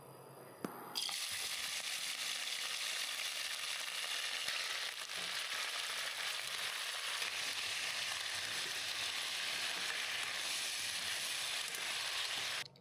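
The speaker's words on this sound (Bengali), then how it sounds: "এবার আমি কাঁকড়াগুলোকে ভেজে নিচ্ছি।" Crabs dropped into hot oil set off a sudden loud sizzle that settles into a steady, close, crackling fry lasting over ten seconds, with no talking.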